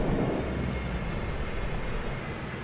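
Airliner engines in a flight simulator game winding down after the fuel is cut off, heard as a steady, fairly loud low rumble and whine that holds throughout with no speech.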